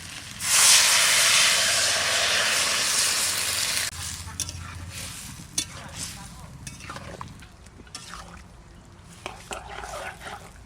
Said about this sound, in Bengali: এবার তেঁতুলগুলো জলটা দিয়ে দিচ্ছি